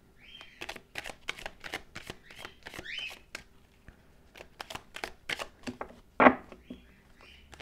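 Tarot cards being shuffled up close in a series of quick, crisp riffling bursts with short pauses between them, ending in one sharper snap of cards.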